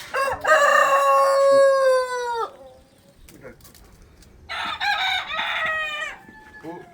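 A rooster crows loudly nearby in a long drawn-out call, then after some quiet clucking and rustling another crow rings out, with faint farmyard noise between.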